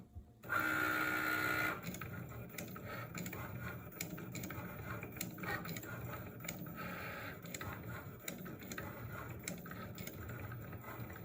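A Cricut machine cutting card, beginning with a short loud whirring start-up, then a quieter steady mechanical hum broken by regular clicks and brief motor bursts as the carriage moves.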